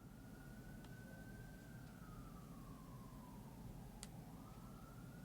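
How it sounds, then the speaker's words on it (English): Distant fire truck siren outside, a faint wailing tone sweeping slowly down and back up over constant low background hum, with a brief click near the end. "lot of fire trucks going around."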